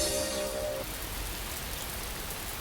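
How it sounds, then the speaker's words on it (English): Heavy rain pours down at the Indianapolis 500 race track, a steady, dense hiss of downpour that holds unbroken throughout at close range. "It is absolutely pouring down rain."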